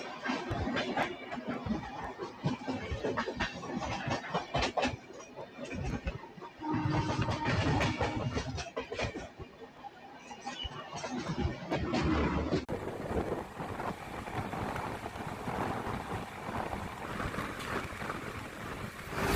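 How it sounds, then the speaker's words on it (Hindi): Train 18478 Kalinga Utkal Express rushes past the 12262 Mumbai CSMT Duranto Express, a loud, close, roaring wash of wind and wheel noise with rapid rhythmic clatter that shifts in tone partway through. "तो यहाँ पर हमारा क्रॉसिंग हो रहा है train number 18478 Kalinga Utkal express के साथ में।"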